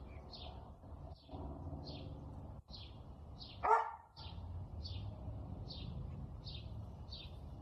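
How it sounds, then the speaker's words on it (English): A dog barking outside a house, a steady run of about ten evenly spaced sharp barks that sound somewhat distant, with one louder thump partway through. "I should let go and go let that dog in the house"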